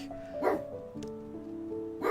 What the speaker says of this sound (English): I honestly don't know what he's barking at.